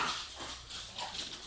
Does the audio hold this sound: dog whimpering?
yes